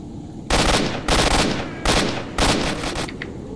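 Four loud, close bursts of automatic rifle fire from the shooter game S.T.A.L.K.E.R., each lasting about half a second, separated by short pauses.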